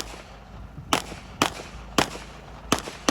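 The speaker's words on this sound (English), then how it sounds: "we can start shooting." Five sharp gunshots crack out at roughly half-second to second intervals over a low steady background during a 3-gun shooting match, each report loud and close.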